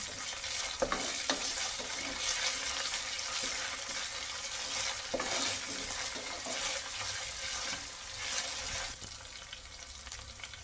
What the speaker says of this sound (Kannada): ಈಗ ಇದು ಹಸಿ ವಾಸನೆ ಹೋಗೋವರೆಗೂ ಫ್ರೈ ಮಾಡ್ಕೊಳ್ಳೋಣ.